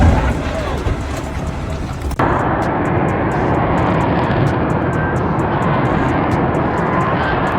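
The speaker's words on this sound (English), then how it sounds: "Vertical landing is one of the F-35B's special capabilities, but it's also a high-risk phase." An F-35B fighter jet coming in for a vertical landing, its engine roaring loudly and steadily at close range after an abrupt shift at about two seconds into a broad, continuous rushing blast that holds to the end.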